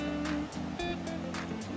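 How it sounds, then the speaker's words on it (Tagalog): Deep river with a strong current rushing steadily close by, a broad continuous wash of water with a few louder surges. "Ito, malalim to ang ilog na ito, malakas yung agos."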